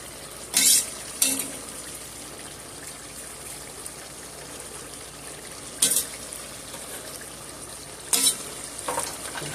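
A pot of three-bean chili with chopped jalapeno simmers with a soft steady bubbling, broken by a few brief scraping stirs of a spoon against the pot.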